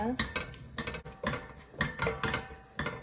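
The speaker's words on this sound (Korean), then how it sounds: "그리고 불을 켜고 먼저 고춧가루를 볶아줍니다" Chili powder is stir-fried in a pot for a beef soup, a spoon clinking and scraping against metal in quick uneven strokes over a faint sizzle, quiet and close.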